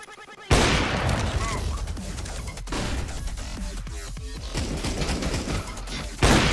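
Rapid gunfire rattles in the video game CS:GO, with dense bursts of shots and sharp cracks running throughout at close range, under excited talk from a player.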